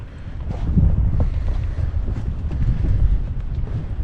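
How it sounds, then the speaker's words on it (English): Breeze gusting at a lakeside campsite in cold weather, a steady rushing buffet of wind across the microphone that swells and eases over a few seconds, with no talk. "A little bit of a breeze coming in, but that's fine."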